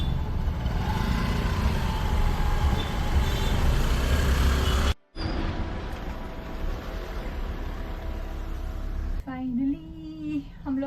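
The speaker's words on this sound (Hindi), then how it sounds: "ट्रैफिक में फंस गए।" Dense road traffic in a jam in Shillong: a steady broadband rumble of idling trucks, buses and cars, with a brief break midway, then a horn-like tonal sound near the end, with some background voices.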